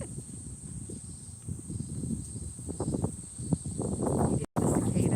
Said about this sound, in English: You get the cicadas.